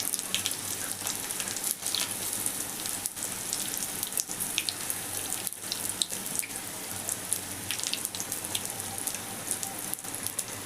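Steady, dense crackle and sizzle of oil splattering as chili bajji fry in a small pan, a continuous close hiss with sharp pops throughout and no talking.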